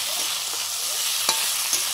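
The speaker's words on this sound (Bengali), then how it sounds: "সবজিগুলো সুন্দর ভাজা হয়ে গেছে।" Vegetables sizzle steadily in a hot pan, a constant crackling hiss with a couple of brief scraping stirs.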